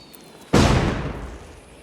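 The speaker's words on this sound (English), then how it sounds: "Let's set it off, and I'll try to look up and see the fireworks" Fireworks go off in the game Deathloop: after a brief quiet moment, a single loud, sharp boom bursts out and then fades into a long, rumbling tail.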